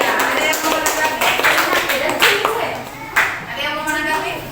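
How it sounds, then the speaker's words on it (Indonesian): A classroom group applauding for a student group named Adelia, with irregular hand claps mixed with voices talking over them. "Tepuk tangan untuk kelompok Adelia"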